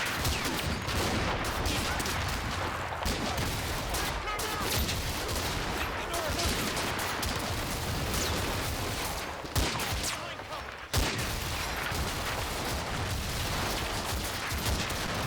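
Artillery barrage in the World War II strategy game Combat Mission: Fortress Italy, Italian beach assault, a dense, continuous roar of gunfire and booming blasts filling the whole stretch, loud and unbroken.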